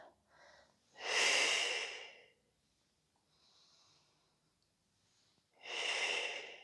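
Breath sounds during a runners' stretch session: two strong, close exhalations, one early and one near the end, with a softer inhale between them and faint breathy noise, without any spoken words.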